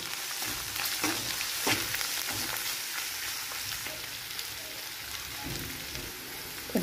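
Washed moong dal fries with onions in hot oil, a steady crackling sizzle broken by spoon scrapes and stirring knocks close by.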